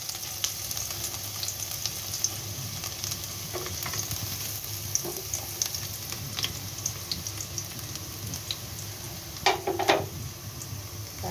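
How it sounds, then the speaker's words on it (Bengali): Dried fish frying in a pan on the stove with chopped ginger and garlic, a steady close sizzle with occasional scrapes and clinks of stirring throughout. "এখন আমি এটাকে চুলায় প্যানে দিয়ে আর একটু ভেজে নেব।"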